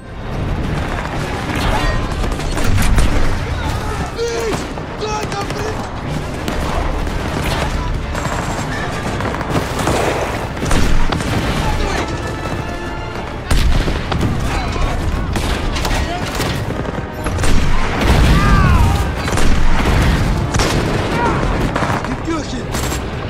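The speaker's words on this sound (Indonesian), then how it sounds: "Penembak senapan mesin tetap di posisi membabat infanteri, sementara meriam menghantam tank-tank yang merangsek maju." Wartime battlefield din with machine-gun bursts and cannon fire striking advancing tanks, loud and continuous with repeated heavy booms and dense crackling volleys, layered under a music score.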